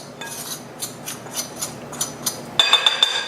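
A utensil mixing dry muffin ingredients, including salt, in a bowl, giving a series of soft rhythmic scraping strokes followed by brighter clinking against the bowl near the end.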